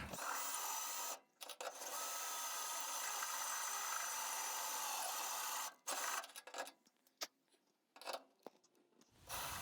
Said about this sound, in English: So I'm going to just drill it from the top.